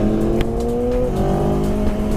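A 2016 Aprilia Tuono Factory 1100 motorcycle engine pulls hard under acceleration. The steady, loud mechanical drone rises gradually in pitch, close up and continuous, with no talking.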